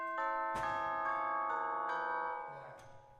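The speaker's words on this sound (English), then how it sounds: "Instead of having to have huge church bells, we can just have this rack of tubes and they sound like this." Several bright metallic strikes on a rack of tubular chimes ring out one after another, each tone sustaining and overlapping before the ringing fades near the end.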